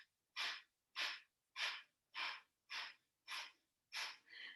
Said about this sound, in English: 8 fast exhales through the nose, drawing the belly button back.